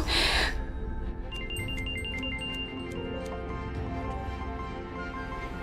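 A mobile phone ringtone plays a repeating melodic tone for an incoming call indoors, steady and moderately loud, after a brief burst of noise at the start.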